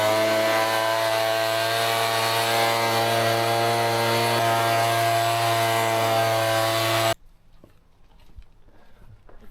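A petrol leaf blower blasts across a freshly sanded tarmac driveway, a loud sustained engine drone with steady harmonic whine for about seven seconds, then cutting off abruptly to faint background sounds.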